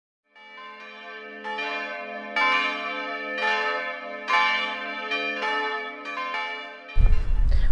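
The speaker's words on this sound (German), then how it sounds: "Unsere Glocken läuten und rufen uns zum Gottesdienst oder zum Gebet." Church bells ring in overlapping, sustained peals with strikes about every second, resonant and steady; a sudden rumble of noise cuts in at the end.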